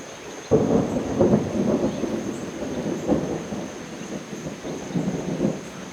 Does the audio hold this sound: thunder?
yes